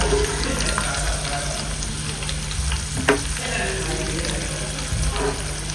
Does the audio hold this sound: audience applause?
no